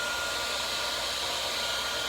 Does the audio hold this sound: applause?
no